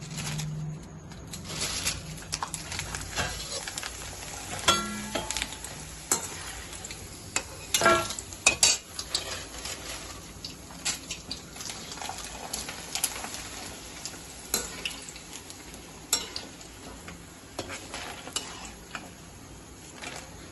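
Thin potato chips frying in hot oil with ghee added for a fasting snack, a steady close sizzle with occasional stirring clatter and scraping of utensils throughout.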